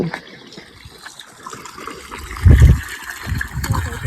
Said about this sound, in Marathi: पाणी सोडले मी